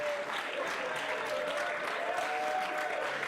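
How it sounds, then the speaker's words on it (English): A crowd applauds the Swedish team at the AFL Europe Euro Cup in Bordeaux, a steady, dense wash of clapping held for the whole stretch, with faint background voices. "As we see the Swedish team being clapped by the men's team."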